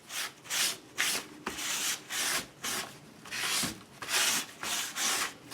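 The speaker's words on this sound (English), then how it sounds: "I'm going to bring my sandpaper in and I'm going to sand down the texture paste and the gesso." Sandpaper rubs over texture paste and gesso on a canvas in steady back-and-forth strokes, about a dozen rhythmic scratchy passes, close and alone with no talk.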